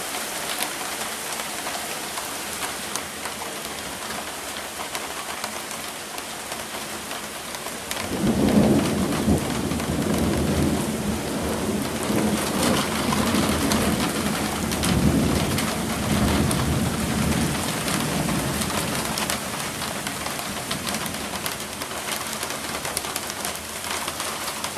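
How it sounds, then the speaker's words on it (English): Steady rain pours with a deep rumble of thunder rolling in partway through, while birds call faintly in the background. "can you hear the rain? It's raining. Thunder, lightning."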